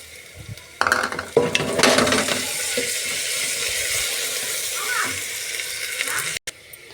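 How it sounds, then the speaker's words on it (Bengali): Chopped ginger and garlic go into onions frying in a pan, giving loud clattering stirs and scrapes over a steady hiss of sizzling oil. "এর মধ্যে আমি আদা রসুন কুচিটা দিয়ে দেবো।"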